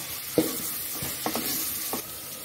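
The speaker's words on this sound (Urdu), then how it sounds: "میں پیاز کو تھوڑا پنکش ہونے تک فرائی کر لیتی ہوں" Onions frying in a pan until pinkish, a steady soft sizzle with a few brief scraping stirs of a spoon, close and clear with no voices.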